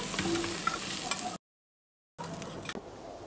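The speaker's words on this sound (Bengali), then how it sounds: "পেঁয়াজ দিয়ে দিলাম আমি তেলের ভিতরে" Onion frying in leftover fish-frying oil for a lobster prawn bhuna, a close, steady sizzle with stirring scrapes, broken by a brief silent gap midway.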